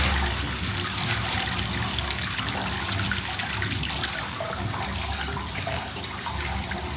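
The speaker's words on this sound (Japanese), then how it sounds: "結構熱いお湯が出てるんだなというところです。" Hot spring source water, around 48 degrees, pours out steadily at an onsen hotel in Hokkaido, a continuous close rushing and splashing flow that stays even throughout with no voices.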